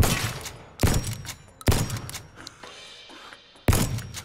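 Pistol shots in a VR fruit-shooting video game: four sharp, loud bangs at irregular intervals, each with a short ringing decay, alone without talk.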